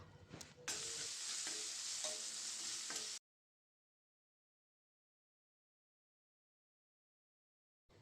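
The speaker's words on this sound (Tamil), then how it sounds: "லைட்டாக உப்பு சேர்த்து இந்த வெங்காயத்தை கொஞ்சம் நல்லா சுருள சுருள வதக்கி எடுத்துக்கலாம்." Small onions and garlic with a little salt sauté in a pan, giving a loud, close sizzle with stirring scrapes for about three seconds before it cuts abruptly to silence.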